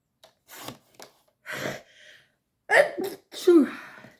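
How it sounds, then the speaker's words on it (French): A single sneeze bursts out close by after a few quiet rustles and breaths, followed by brief noisy exhalations. "Attention, je vais éternuer."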